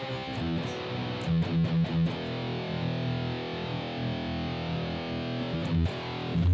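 A heavily distorted electric guitar dialed in for a metal tone plays sustained chords and a few choppy muted stabs, loud and saturated with buzzing harmonics, ringing out between short bursts.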